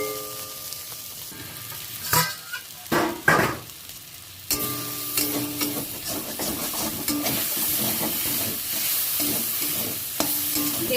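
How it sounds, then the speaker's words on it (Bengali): Pumpkin and bitter gourd stir-fried in a pan, a steady sizzle and hiss running throughout with several sharp scraping stirs of a spatula against the pan, close and alone without any talk. "কুমড়ো আর উচ্ছেটা অনেকটাই সিদ্ধ হয়ে গেছে, আর একটু নেড়ে ছেড়ে ভেজে নিতে হবে"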